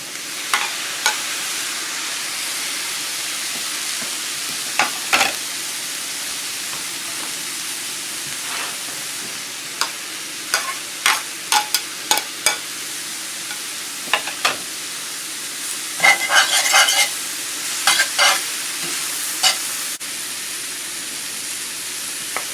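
Pork scraps fry with tomatoes and olives in a pan, a loud, constant sizzle under repeated sharp scraping and clacking strokes of a utensil, clustered in bursts near the middle and toward the end.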